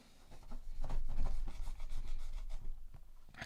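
A razor-sharp knife saws through tough Dyneema synthetic winch rope, giving close, rough rubbing and rasping strokes that come in uneven bursts with no talking.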